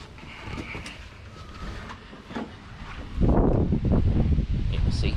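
Gusty wind buffets the microphone outdoors, growing into a loud, roaring rush in the second half; no speech.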